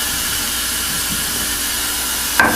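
Cold tap water runs into a kitchen sink to make a cool bath for a pot of milk, a steady close hiss and rush with a brief knock near the end.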